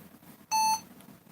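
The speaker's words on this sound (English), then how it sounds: "Beep." An HP dv8000 laptop gives a single short electronic startup beep, a clean tonal bleep of about a quarter second over a faint background hum.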